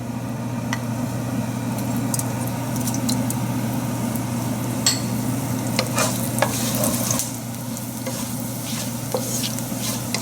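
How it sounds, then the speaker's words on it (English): Whole coriander and cumin seeds splatter and sizzle in hot olive oil, a steady crackling fry with sharp pops and stirring scrapes throughout, close and loud with no talk. "So you can see it has already started to splatter."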